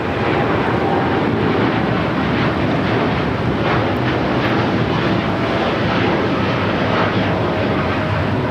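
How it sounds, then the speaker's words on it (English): Japan Airlines Boeing 787-9 Dreamliner taking off from LAX runway 25 right, a loud, continuous deep jet engine roar with some wind buffeting on the microphone. "That is Japan Airlines Flight 69 taking off to Osaka on the 787-9 Dreamliner."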